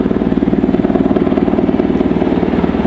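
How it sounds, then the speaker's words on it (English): A military helicopter passes overhead near a gym, its rotor chop a loud, steady rhythmic thudding that fills the whole stretch with no talk. "Helicopter."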